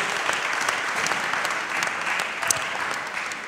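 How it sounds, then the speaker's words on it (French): An audience claps steadily for performers arriving on a stage, a dense mid-sized round of applause at even loudness that tapers slightly at the end. "Vous pouvez les applaudir"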